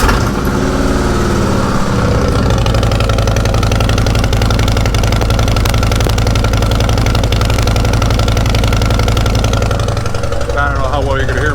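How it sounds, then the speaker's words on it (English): A vehicle exhaust fitted with straight-piped titanium mufflers idles loudly and close, giving a steady throbbing rumble after a brief rev at the start, with someone talking over it. "I don't know how well you're going to hear me over the exhaust,"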